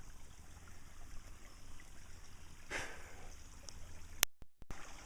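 A small stream flows steadily where two streams join, producing a continuous soft gurgle and trickle close by, with a brief burst of rushing water partway through and a few sharp handling knocks near the end.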